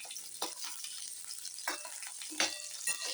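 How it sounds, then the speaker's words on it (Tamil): Okra fries in sesame oil in a pan, a quiet steady sizzle broken by a few sharper crackling bursts as the pieces are stirred, with no talking. "முதல்ல வெண்டைக்காவை நல்லெண்ணெய் ஊற்றி நல்லா வதக்கி எடுத்துக்கணும்"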